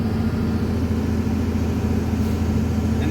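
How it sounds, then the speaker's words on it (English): A Cummins diesel engine in a red dually hotshot truck drones steadily and loudly nearby, a constant low rumble with an even whistling turbo layer on top. "listen to that turbo"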